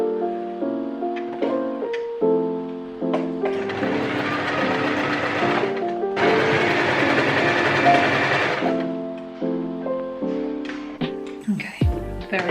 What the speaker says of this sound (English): So I've like sewed this scrap kind of in half